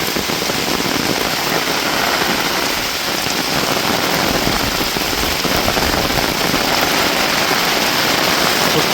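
Heavy summer rain pounds down hard and steadily, a loud, dense, unbroken hiss of drops striking surfaces close by, with no voices.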